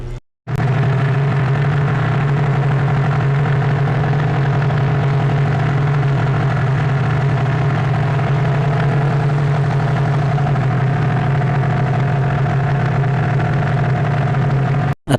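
A motorboat engine drones loudly and steadily for the whole stretch of an hour-long river boat ride, a constant low rumble with no break.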